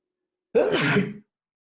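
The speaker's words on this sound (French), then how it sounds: "Je vais éternuer." A single close, sharp sneeze, loud and sudden, lasting well under a second, then silence.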